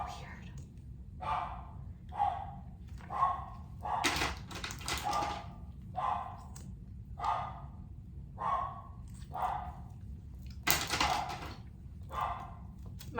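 A dog barking at someone at the door indoors, a steady series of about a dozen sharp barks spaced roughly a second apart, moderately close, with a couple of louder knocks or door sounds among them.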